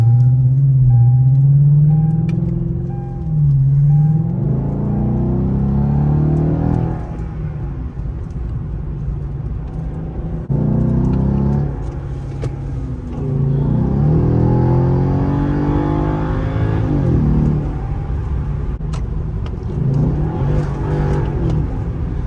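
A Genesis sedan with a 4.6 V8 and an aftermarket throttle controller accelerates hard. The engine roar is loud and close, rising and surging through several pulls with no talk over it.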